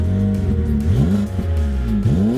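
A BMW VLN race car with a big naturally aspirated front-mounted 268-horsepower engine revs up and down repeatedly, loud and close, with rising and falling pitch sweeps and no talk.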